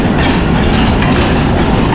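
A Mumbai local train rolls along at speed, heard from near an open carriage door as a loud, continuous rumbling roar with rhythmic clatter of wheels on track.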